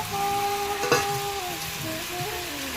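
Potato, onion, garlic and chili for chowmein sizzle together in hot oil, a steady close frying hiss with a brief stirring clatter partway through.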